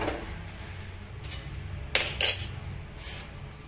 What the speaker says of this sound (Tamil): இப்போ இதில் ஒரு மண்சட்டி எடுத்துக்கலாம்